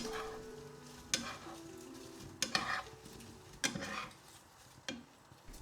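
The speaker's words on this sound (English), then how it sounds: "we add the cereal and give it a quick toast" Cereal and fried prawns are toasted in a wok with butter and curry leaves, giving a faint sizzle under four or five distinct scrapes and clinks of a spatula against the metal, close and unhurried.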